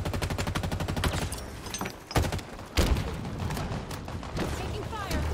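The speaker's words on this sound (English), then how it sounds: "Taking fire." Rapid gunfire bursts from Halo Infinite multiplayer, dense repeated shots with a couple of heavier thuds, loud and continuous under players talking.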